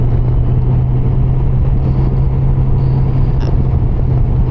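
Motorcycle engine held at steady pinned throttle while shifting up through the gears, a loud continuous droning rumble heard close under wind noise, with no clear gear-change breaks.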